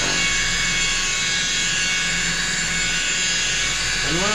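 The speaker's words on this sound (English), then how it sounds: "I'm holding it flat so that it's polishing basically in all directions on a flat surface" A power polisher polishing a car surface after wet sanding, a loud, steady, high whining drone that runs continuously up close.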